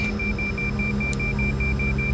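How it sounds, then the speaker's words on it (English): An aircraft cockpit alarm beeps over and over in the X-Plane 11 flight simulator, in a CRJ 200 jet, a fast even pulse of short tones over a steady engine and cabin hum, with no talking. "I swear that beeping is so annoying, folks."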